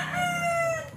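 Large chickens in a coop give a short, close crowing call with a tonal, drawn-out quality, with no one talking.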